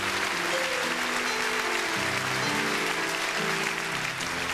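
A live concert audience in Quebec City applauds, dense sustained clapping filling the hall at an even level, with faint voices and a few tonal notes underneath.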